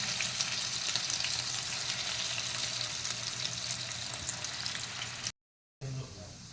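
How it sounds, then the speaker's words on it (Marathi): Fish rolls frying in hot oil in a pan give a loud, steady hiss and sizzle that runs unbroken, then cuts out briefly before the sizzle resumes. "आता पॅनमध्ये तेल घातलेलं आहे तापत एक दोन चमचे तर माशाचे रोल तयार केलेले घालत आहेत"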